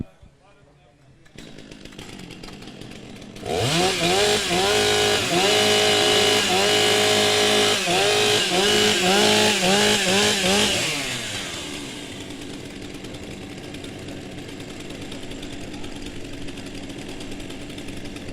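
Chainsaws revving at a STIHL TimberSports championship in New Zealand, several saws winding up together into a loud, wavering rising-and-falling whine before easing back to an idle hum, with a speaker's voice over the event.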